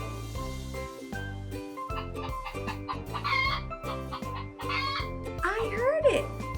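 Clucking from a hen in a playful animal-sounds storybook toy, mixed with music and a voice, running continuously at moderate level.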